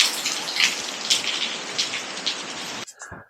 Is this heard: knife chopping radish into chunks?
no